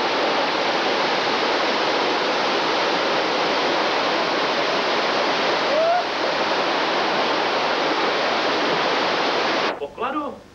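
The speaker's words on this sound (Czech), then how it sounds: "Kolem jezera k vodopádu." A waterfall in a western adventure game roars as a loud, dense, continuous rush of falling water for about ten seconds, then cuts off abruptly into a brief voice at the end.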